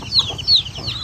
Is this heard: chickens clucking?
yes